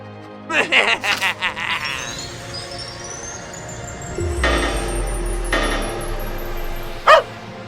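A cartoon puppy in an animated short yaps in a quick series of high barks, followed by a rising whistle-like tone, a low rumble and a sharp squeak near the end.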